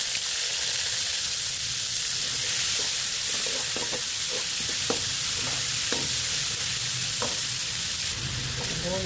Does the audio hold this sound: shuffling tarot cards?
no